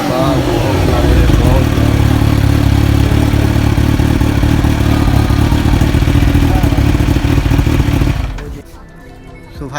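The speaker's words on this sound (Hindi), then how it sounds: "H2 का साउंड सुने एग्जॉस्ट का।" A Kawasaki Ninja H2 motorcycle's exhaust rumbles loud and close, a steady deep engine note holding for about eight seconds before cutting off abruptly, with voices in the background.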